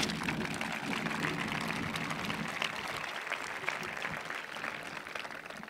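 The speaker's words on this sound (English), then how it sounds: "let's give them all a big round of applause" Applause from the audience at a 2024 school graduation ceremony forms a faint, steady wash of many clapping hands heard from a distance in a large room.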